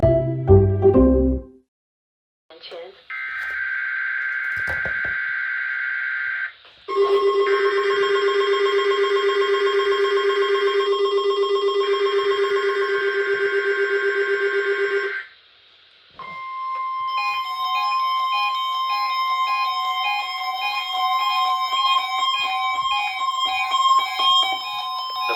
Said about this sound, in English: The preceding signal was a test of the weather radio alarm system.